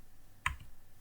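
A single crisp keystroke on a computer keyboard while typing in Microsoft Word, one short click standing out against quiet room noise.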